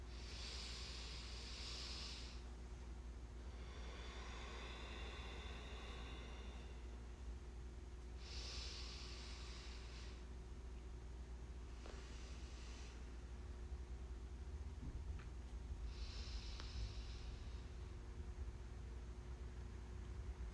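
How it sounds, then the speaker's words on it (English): A group breathing exercise: three slow, deep breaths taken together, each a soft airy rush of inhale and exhale spaced several seconds apart over a steady low background hum, with no talking. "3 breaths together."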